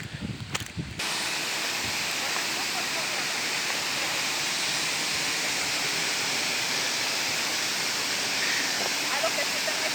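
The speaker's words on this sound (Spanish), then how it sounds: "aquí están las cascadas de las Pilas." Las Pilas waterfall in Arambala, Morazán, El Salvador, a loud, close, unbroken roar of falling water that follows a few brief handling bumps at the start.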